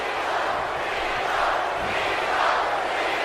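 A dense arena crowd in the WWE 2K18 wrestling video game roars continuously, a broad wash of many voices with gentle surges suggesting chanting for John Cena.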